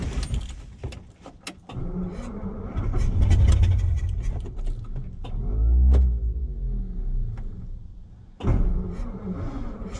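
A 1966-era Ford flathead engine with a primed carburetor cranks and catches, revving unevenly in loud low bursts with a few clicks and clunks around it, cutting out briefly before firing again near the end.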